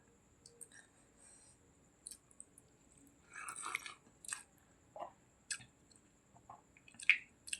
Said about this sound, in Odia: ଏଇ ଗାଁକୁ ଆସିକି ବି ମୁଁ ପ୍ରଥମ କରି ଆଜି ପଖାଳ ଖାଉଛି।